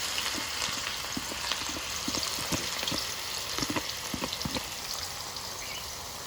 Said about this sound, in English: Oil is warm, so I'm putting some onions on it.